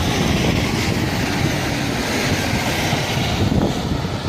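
Class 153 diesel unit 153384 pulling out of Peterborough station, a loud steady engine drone and rolling rumble filling the whole stretch, near and with no voices.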